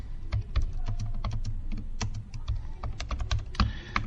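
Fingers typing on a computer keyboard, close and crisp: irregular bursts of key clicks with short pauses and a few heavier thumps, no voices.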